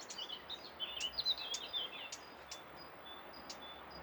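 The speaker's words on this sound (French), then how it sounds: "On entend les oiseaux qui sont vraiment tout près." Small birds sing and chirp close by along a path under broom shrubs, with bright, scattered high calls and trills over a soft, quiet outdoor background.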